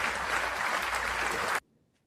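Steady, dense applause from a crowd, loud and continuous for about a second and a half, then cut off abruptly into near silence.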